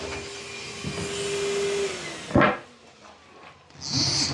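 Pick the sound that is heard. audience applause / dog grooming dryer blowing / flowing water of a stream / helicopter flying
dog grooming dryer blowing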